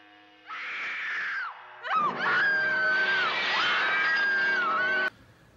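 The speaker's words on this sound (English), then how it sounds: "The actress that was screaming a second ago" An actress screaming in The Green Slime film, two long loud shrill screams, the second sustained and wavering, with a brief pause between them.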